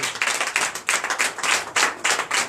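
Congregation at a Sunday church service in Comè, Benin, bursting into loud, dense applause, with several surging waves of clapping close by.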